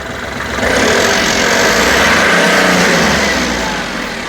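Close up, the diesel engine of a 2021 Ashok Leyland Dost pickup is revved: a steady engine drone swells louder through the middle, holds, then eases back down, with no speech over it.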